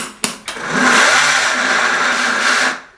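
A mixer grinder whirs loudly as it grinds peanuts with salt into peanut butter, starting after a couple of sharp clicks, holding a steady high-pitched buzzing drone, then cutting off near the end.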